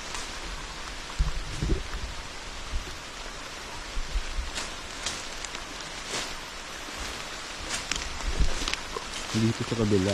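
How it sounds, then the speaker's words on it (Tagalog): Rain picking up on a farm during maintenance work, a broad steady patter with scattered heavier drops and occasional footsteps or rustling, with people talking nearby. "Palakas ng ulan."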